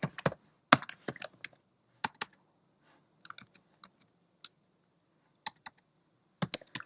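Quick bursts of clicky keystrokes on a Mac computer keyboard, typed in short irregular clusters separated by brief pauses, close and crisp with no talking.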